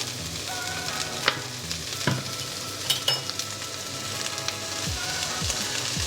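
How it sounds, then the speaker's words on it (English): Vegetables with salt, hot sauce, ketchup and sriracha stirred in a pot for vegan one-pot ramen, a steady sizzle under scraping spoon strokes and a few sharper knocks against the pot, no voices. "we're just going to mix all this up"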